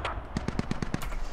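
A quick series of about six evenly spaced heavy cannon bursts in the game Squad, moderately loud, set against a constant background rumble.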